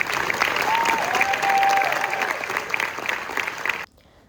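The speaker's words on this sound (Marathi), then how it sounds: "त्यांच्यासाठी जोरदार टाळ्या व्हायला." An audience at the Zee Marathi Chitra Gaurav Awards in Mumbai claps loudly in sustained applause with a few shouts and a whistle, then cuts off abruptly.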